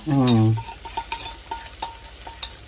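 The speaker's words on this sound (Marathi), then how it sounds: "आता हे थोडा वेळ मला वाटतं असं हलवत राहावं लागेल हलकस ब्राऊन होण्यापुरतं" A spoon stirring sabudana khichdi in a pan, with light scraping and soft clinks repeating at an irregular pace after a short burst of speech at the start.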